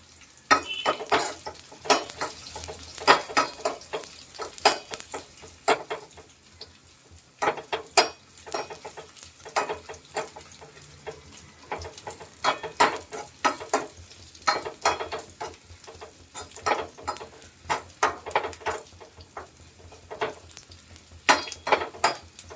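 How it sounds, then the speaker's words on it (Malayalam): Mustard seeds, dried red chillies, onion and curry leaves fry in hot oil for a tempering, with steady sizzling and rapid crackles and pops, plus occasional scrapes of a spoon against the pan, up close and without any talk. "നമുക്ക് കടുകും വറ്റൽമുളകും ഉള്ളിയും കറിവേപ്പിലൊക്കെ കൂടി താളിച്ചിടാം"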